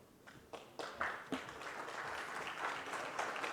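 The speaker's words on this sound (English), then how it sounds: "a round of applause to honor Shri Jyotiraditya Scindia ji" An audience at a conference inaugural session applauds after a token of gratitude is presented to a minister, scattered claps building into a sustained, fairly faint round of clapping.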